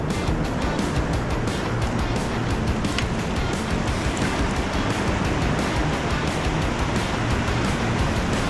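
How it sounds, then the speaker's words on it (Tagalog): Ocean waves at high tide on a Philippine shore make a dense, continuous roar of surf that stays steady and loud throughout, with no voices. "Ayan ang alon."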